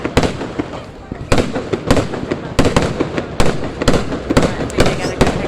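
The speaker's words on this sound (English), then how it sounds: "Fireworks video." Fireworks bursting at a 4th of July celebration, a run of sharp, loud booms and crackles spaced irregularly across the clip, with people's voices faintly underneath.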